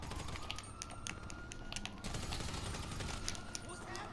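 Gunfire in GTA 5 Online, rapid bursts of shots crackling under a steady game soundtrack, fairly quiet and continuous with no pauses.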